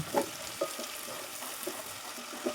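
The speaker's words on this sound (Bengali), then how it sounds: "পেঁয়াজটা, এটা কিন্তু আমি এখন একটু ভালো করে ভেজে নিব" Onion frying in a pan, a steady sizzle with occasional stirring clinks and scrapes close up, no talking.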